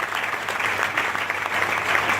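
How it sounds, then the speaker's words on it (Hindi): A crowd claps steadily and densely for a couple of seconds, a sustained wash of applause from a room full of people. "तो आप अपने लिए तो जोरदार ताली बजाइए"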